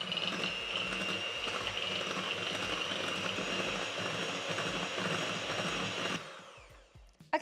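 Egg whites being whipped by hand with a whisk in a bowl, a steady continuous scraping and whirring for about six seconds that then fades and stops, with no talking.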